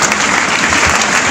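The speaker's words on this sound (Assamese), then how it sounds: "বহুত জোৰছে তালি এটা বজাওঁ" Audience applause for a motivational speaker at a student gathering, a steady dense wash of clapping from a large standing crowd, loud and continuous throughout.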